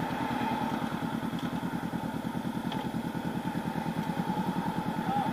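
A 2019 Honda CB500X motorcycle riding on a road in Shanghai, its engine a steady, close, rhythmic mid-pitched throb that keeps a fast pulse throughout, heard alone without talk.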